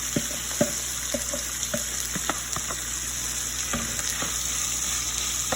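Peppers and onions sizzle steadily in a hot pot, with occasional clinks and scrapes from stirring.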